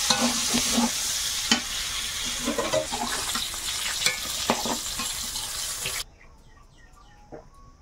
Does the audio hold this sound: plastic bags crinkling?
no